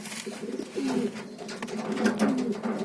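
Pigeons coo in a pigeon loft, several soft, low, rolling calls repeating close by over a light background of shuffling and rustling.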